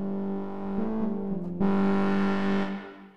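A wavetable synthesizer in Ableton Live plays a sustained, distorted tone through a custom reverb effect, holding one chord before shifting to a brighter, fuller chord that rings on and then fades out.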